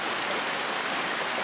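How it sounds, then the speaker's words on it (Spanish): Water from two springs runs across a damaged mountain road, a steady, dense rushing hiss heard close and unbroken. "Aquí estamos cruzando dos nacimientos de agua."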